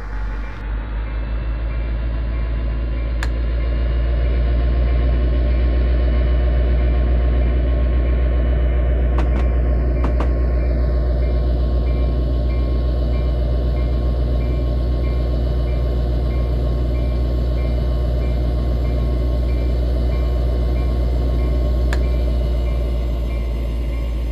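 A video-game train rumbles steadily along on the West Palm Beach to Fort Lauderdale route in Train Simulator 2015, a loud continuous low drone with rail clatter, occasional sharp clicks and a faint high whine, no voices.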